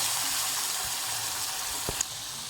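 Masala paste of chilli, coriander powder, onion, coconut and poppy seed frying in oil, a continuous dense sizzle with one brief clink partway through.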